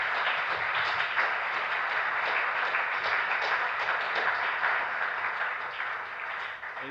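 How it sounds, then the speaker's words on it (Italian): An audience at a geology lecture on the Alps gives a long burst of dense, steady applause, many hands clapping together. It fades slightly toward the end, with no talking over it. "questi applausi che sono rivolti in pari misura a lui"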